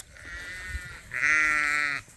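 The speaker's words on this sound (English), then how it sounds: "we have an unhappy ewe there." An unhappy ewe on a sheep farm lets out two close bleats: a thinner wavering call first, then a louder, longer, strained bleat with a harsh quavering tone that stops abruptly.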